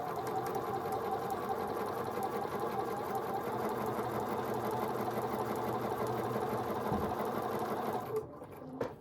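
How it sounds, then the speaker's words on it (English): A sewing machine runs continuously while chain stitching quilt appliqué pieces for a mini wall hanging, a steady close whir that stops abruptly near the end. "And it's just continuously chain stitching here."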